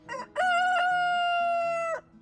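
A backyard rooster crows once, loud and close, a long drawn-out call preceded by a short clucking note.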